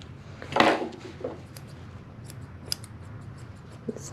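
Scissors trimming a Maltese dog's hair, close, with a louder snipping burst early on followed by several scattered light snips against quiet room noise.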